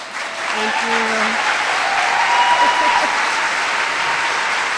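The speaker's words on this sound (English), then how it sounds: "Y'all need to stop clapping." Sustained audience applause fills the clip, dense and steady clapping from a large crowd, with a few voices faintly audible beneath it.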